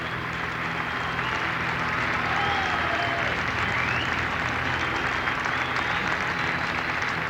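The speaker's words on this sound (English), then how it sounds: "we'll let you listen in on the applause for Dwight Stevenson" A large crowd at the Pro Football Hall of Fame induction ceremony applauds for inductee Dwight Stevenson, producing a steady, dense wash of clapping and cheering that holds at an even level throughout.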